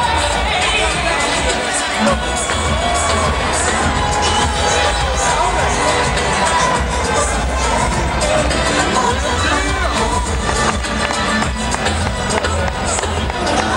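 Crowd noise rises from the boxing arena ahead of the Holyfield–Ruiz rematch: a steady, loud roar of cheering mixed with babbling voices, sustained without a break from start to finish.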